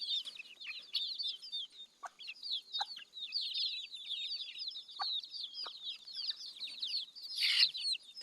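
Backyard village chickens and chicks on a small Thai farm keep up a faint, busy stream of high peeping and soft clucks, with a few sharp knocks and no talking.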